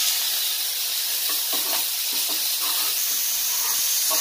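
Onions fry in a pan for kanda poha with a steady, moderate sizzling hiss and occasional soft crackles and stirring scrapes.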